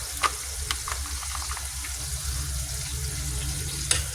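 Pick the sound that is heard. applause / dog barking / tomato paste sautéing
tomato paste sautéing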